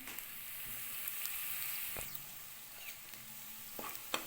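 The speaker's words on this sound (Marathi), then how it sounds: "आणि मिरची पण आता छान परतली बघा" Green chillies frying in a home kitchen pan, a soft steady sizzle with faint crackles and a few sharp pops, close but quiet with no talking.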